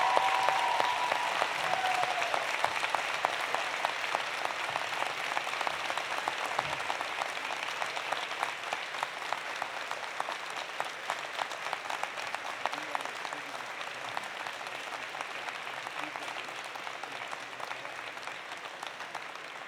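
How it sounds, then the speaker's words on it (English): Graduates at a University of Alberta spring convocation applaud their families, a large hall full of steady clapping that holds for about twenty seconds and slowly fades a little, with a faint voice briefly at the start. "give them a huge round of applause"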